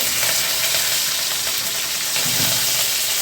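Cumin and curry leaves fry in hot oil, producing a loud, dense, close crackling sizzle that runs continuously with slight surges, with no talking over it.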